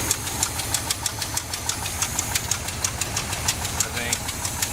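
Car engine running rough with a bent valve, a steady close idle with a regular ticking knock pulsing through it, loud and alone.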